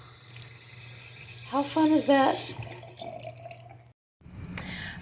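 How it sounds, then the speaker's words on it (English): Water running from a bathroom faucet in an Amish-owned business, a steady hiss heard under a woman's speech before a brief dropout and another splash. "I have to show you this bathroom faucet."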